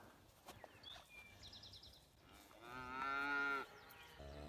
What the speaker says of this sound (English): And we have some cattle here.